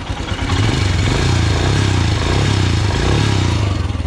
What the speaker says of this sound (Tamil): ஸோ இதுதான் இன்ஜின் சவுண்டு